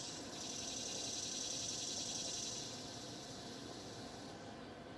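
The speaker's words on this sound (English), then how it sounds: "That's a cicada." A high, steady insect buzz drones for a few seconds over faint background hiss, then fades away.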